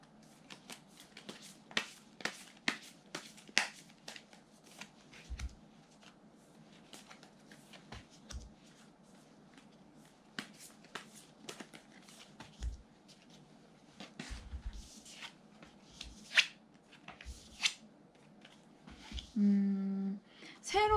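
Tarot cards being shuffled and drawn: a quiet, close series of sharp flicks and soft slaps at an uneven pace, with a brief murmur of voice near the end.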